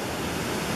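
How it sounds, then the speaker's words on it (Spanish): Steady broadband roar of a jungle waterfall plunging into a pool in Omar Torrijos National Park, Panama, heard briefly and loud, a dense rushing wash with no voices. "Aquí pueden observar muy bien la cascada, la caída de la cascada y el pozo que sí está"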